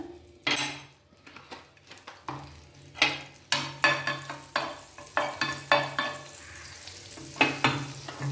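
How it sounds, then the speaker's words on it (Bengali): Butter melting in a pan for chatpata corn, with a soft sizzle running under a series of sharp clinks and scrapes from a utensil against the pan, close by and with no talking. "বাটারটা একটু গলে যাক।"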